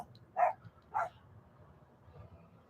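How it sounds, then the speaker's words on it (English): A dog barks twice in quick succession, moderately distant, followed by quiet background rumble. "We'll see what the dog's barking about."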